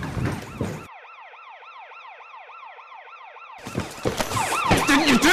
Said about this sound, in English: Turn the fucking siren off!